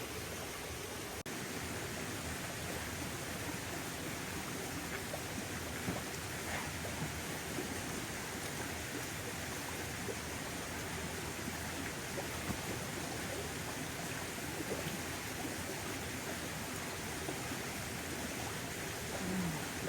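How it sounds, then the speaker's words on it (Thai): A waterfall and stream flow beside a lodging, giving a steady, fairly soft hiss of running water that stays even for the whole stretch, with no talking over it. "น้ำตกไหลผ่าน"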